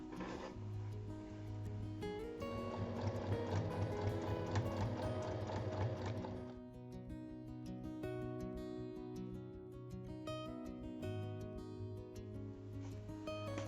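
A sewing machine stitches two fabric pieces placed right sides together along their full height for a fancy pouch, running steadily for about six seconds before quieting, with tonal background sound throughout.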